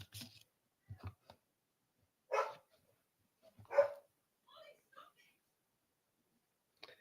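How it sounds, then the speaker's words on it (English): Dogs bark in a few short, faint bursts separated by silence, several sharp woofs and yips in a quiet indoor setting. "Dogs are barking, having a mad moment."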